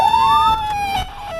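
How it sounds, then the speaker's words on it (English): A police siren wails with a rising and falling pitch, loud and close, sounding steadily with no voices. "turn on the lights and siren"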